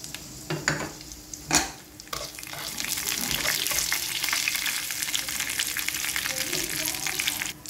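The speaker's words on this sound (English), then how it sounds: "Now we can add mustard seeds." Mustard seeds, urad dal and chana dal fry in oil for a South Indian coconut dal: a few sharp pops and clatters at first, then a steady, loud crackling sizzle that runs unbroken to the end.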